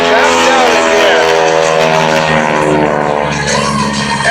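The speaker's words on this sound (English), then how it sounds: "you not only hear but feel that airplane, the tips of the propellers reaching supersonic speed, giving that unique sound" A large propeller airplane climbs through an aerobatic display, its propeller tips at supersonic speed producing a loud, sustained buzzing drone with strong harmonics that slowly shifts in pitch, close and continuous throughout.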